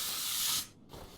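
A spray gun painting a car part in the video game Car Mechanic Simulator 2021, with a steady airy hiss that briefly cuts out, then resumes in short bursts.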